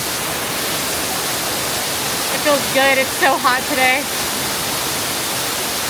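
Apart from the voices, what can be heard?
waterfall at the EPCOT Canada pavilion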